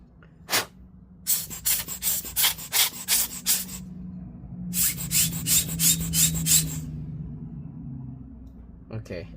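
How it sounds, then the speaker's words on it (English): Short bursts from an air blower spin the fan of a Razer Blade Stealth RZ09-0168 laptop, giving sharp, close, rapid puffs in two clusters with a faint whirr between them. "let me try and spin this with the air blower"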